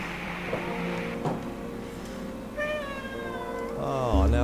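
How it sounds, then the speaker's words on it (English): A cat meows in the video game Transcend, two or three drawn-out, wavering cries close up over a quiet ambient hum, the last one rising and louder. "Oh, now the cat is there."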